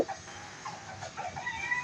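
Chickens cluck in short soft bursts at close range, with a few rooster-like calls mixed in against steady background noise and no talking.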